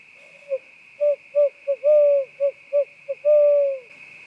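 A person imitating a barred owl in New Hampshire woods, a voiced series of about ten loud hooting notes with drawn-out drooping ends, close and clear over a steady background hum from a dam.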